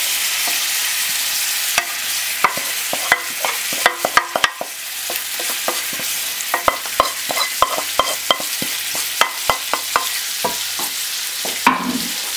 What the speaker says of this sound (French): nos langoustines sont poêlées avec le BNB. On va maintenant y incorporer le confit d'ail et l'échalote